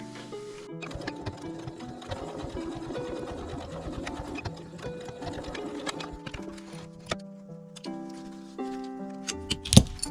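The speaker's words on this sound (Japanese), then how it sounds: "7ミリのところを縫います。" A sewing machine stitches a patchwork pouch seam in rapid, steady mechanical bursts, with a short pause and small clicks of the fabric being handled, close and clear with no speech.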